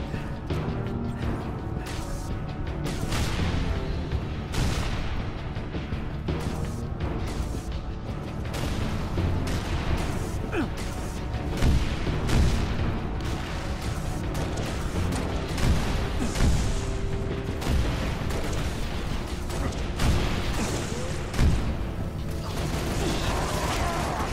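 Turrets fire continuously in Halo Reach amid mechanical clanks and booms, a loud, dense, unbroken barrage throughout.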